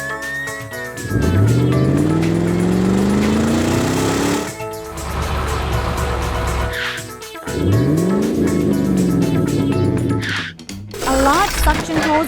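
An animated car skids on oil spilled across a cliffside road, with loud tire squeals rising and falling over engine noise, repeated in several bursts alongside cartoon sound effects.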